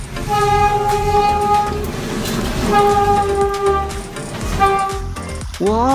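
Toy train sounding its horn in repeated tonal blasts over rattling mechanical clatter, fairly close, with a brief high squeal near the end.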